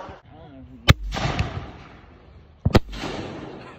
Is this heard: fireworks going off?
yes